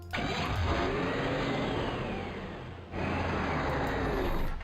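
Arm unit moving in the Total Annihilation video game, a steady mechanical engine-like whirring rumble that dips briefly midway and then resumes, alone and moderately loud.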